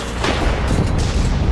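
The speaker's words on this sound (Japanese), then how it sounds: "ここは爆発か。" A booming explosion in the video game The Order: 1886, a heavy broadband blast with rumbling low end that carries through the short stretch, loud and close with no talk over it.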